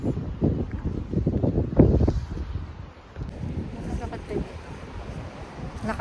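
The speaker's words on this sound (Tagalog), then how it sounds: "It's very windy. Very windy." Strong wind blowing outdoors on a cold day, gusty rumbling buffeting against the microphone, louder at the start and easing in the middle, with a voice faintly audible underneath.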